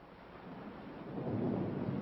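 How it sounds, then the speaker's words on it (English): Rolling thunder from a storm at night rumbles low and steady for about two seconds, swelling louder toward the end, with no voices present. "And poor Edwards, these storms don't do him any good."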